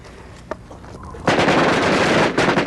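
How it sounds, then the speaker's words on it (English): An Uzi machine gun fires a sustained loud burst at an outdoor shooting range, a rapid rattle of shots that begins abruptly after a quiet moment with a single faint pop, close and harsh. "Not many people have an opportunity to shoot a machine gun that they see in the movies"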